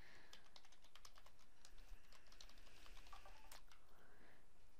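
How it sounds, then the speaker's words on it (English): Keystrokes on a computer keyboard while entering email addresses into an online course system, a quiet, dense run of light clicks with no speech. "In the Add People box, you can simply type in email addresses."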